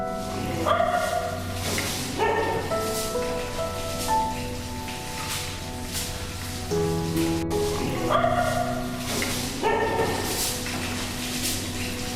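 Dogs at an animal rescue shelter in Vietnam barking and yipping, several overlapping voices in repeated bursts across an outdoor courtyard, loud and near against a steady background noise.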